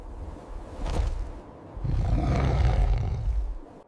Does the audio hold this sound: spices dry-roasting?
no